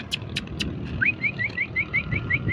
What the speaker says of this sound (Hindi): मैं सिर्फ हल्की सी इसको सीटी मारता हूँ और ये आता है।